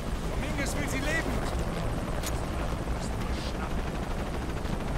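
Helicopter rotor noise from the video game Shadow of the Tomb Raider, a steady loud chopping drone mixed with gunfire-like bursts and game action, with voices talking over it.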